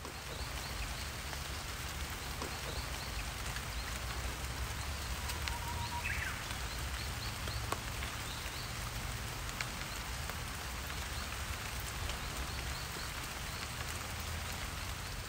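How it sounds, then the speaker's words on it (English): Steady rain falls on surfaces in a park in Kyoto, a dense continuous patter with no talk, holding an even level through the whole stretch with a few faint distant sounds underneath. "The rain on this day sounded great, so I made sure to record a little snippet so that you could get a feel of what it sounded like."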